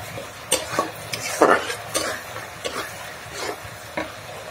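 Spice masala with turmeric and chili powder frying in a pan as a spatula scrapes and stirs it in several distinct strokes, close and clear over a soft sizzle.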